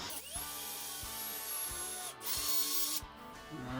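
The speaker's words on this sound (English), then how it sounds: "we're going to drill a hole right in the center going into the stud" A power drill bores a hole into a wall stud while a cabinet is being installed, its motor whining steadily and close, with short pauses and speed changes between bursts.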